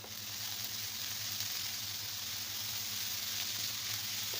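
Grated carrot hitting a hot pan of onions: a steady, soft sizzle and hiss holding evenly throughout, fairly quiet, with a faint low hum underneath and no talking.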